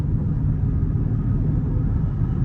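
Steady low engine rumble from a Dodge Charger R/T heard from inside the car while daily driving, a continuous muffled drone with no speech.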